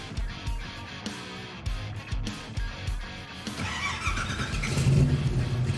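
A car engine runs as it drives off, mechanical rumble and brief squeals early on, rising into a louder, sustained drone toward the end, close and without talk.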